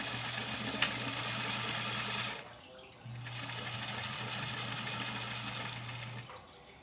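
A sewing machine stitches the middle seam of a washable fabric face mask, running in two steady bursts of close, even mechanical whirring with a short pause between them.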